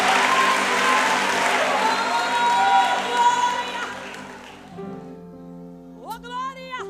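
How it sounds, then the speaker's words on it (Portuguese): Church congregation applauding and cheering during a service, a dense crowd wash that thins out after a few seconds, followed by a lone voice singing out over the room. "Você pode aplaudir ao nome do Senhor nessa tarde."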